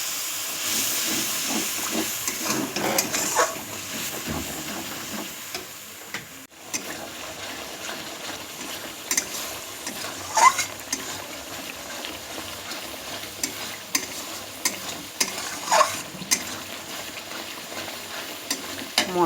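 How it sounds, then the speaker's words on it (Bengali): Spice masala for kaccha motor ghugni, salt added and a little water poured in, frying and being stirred in a pan: a steady hiss and sizzle with scraping stirs throughout, close and fairly quiet, with no talk. "অল্প একটু জল দিয়ে মশলাটা ভালোভাবে কষিয়ে নেব।"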